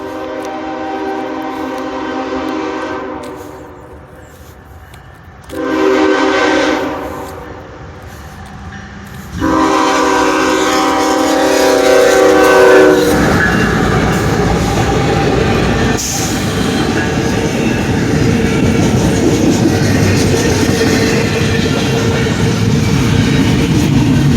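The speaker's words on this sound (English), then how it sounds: "Stopped by the train." A train passes close by with a long, loud, tonal horn blast, followed by the heavy continuous rumble and clatter of rolling cars.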